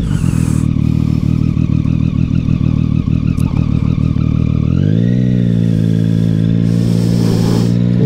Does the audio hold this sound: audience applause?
no